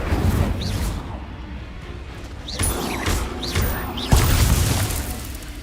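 Spell effects in Hogwarts Legacy, including the Incendio fire spell: a series of whooshing, crackling bursts, several in quick succession, with a heavier impact near the end, against a low rumbling game background.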